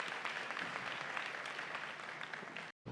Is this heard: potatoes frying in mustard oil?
no